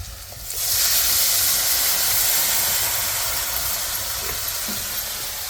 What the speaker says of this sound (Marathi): आता वाटण टाकायची ते परतायला.